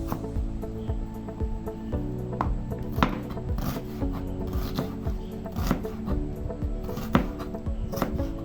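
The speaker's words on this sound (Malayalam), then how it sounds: "ചെറുങ്ങനെ മുറിച്ച് കൊടുക്കുന്നുണ്ട്." Ingredients for muttor chaat being cut into small pieces with a knife on a board, steady rhythmic close-up chopping taps with light scraping, no talking.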